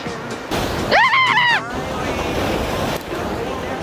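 Strong waves break on the East Sea coast in Korea, a loud churning wash of surf with wind buffeting the microphone and a brief shout heard over the noise.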